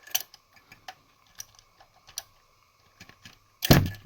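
Ratchet and socket working on a spark plug of a Honda CR-V, with scattered light metallic clicks and ticks close by, ending in a louder clatter as the socket is pulled out.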